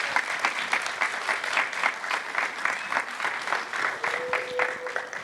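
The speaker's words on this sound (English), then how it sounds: "Can you please give them a big round of applause?" An audience at a public political event on votes at 16 gives a steady round of applause, many hands clapping in a close, lively rhythm throughout, with a faint tone appearing near the end.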